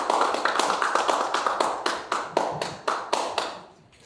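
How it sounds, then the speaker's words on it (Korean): Audience applause welcoming a KAIST business professor to the podium at a Yongsan Forum lecture in a hall, a dense steady clapping from many hands that thins and fades out near the end. "정말 큰 환영의 박수로 맞아주시기를 바랍니다"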